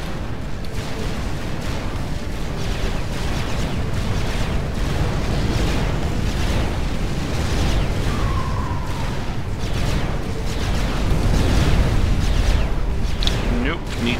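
Bombers attack an anti-air turret in Supreme Commander, bringing a continuous rumble of battle with scattered booms and explosions, dense and steady throughout, with small electronic game tones mixed in.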